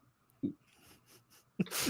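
A single sharp sneeze bursts out near the end, preceded by a brief breathy intake, with quiet background otherwise.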